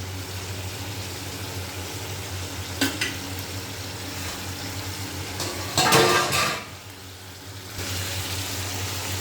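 Spices frying in a pan over a gas flame, a steady sizzle with a low burner roar, punctuated by a sharp clink and a louder burst of stirring scrapes near the end.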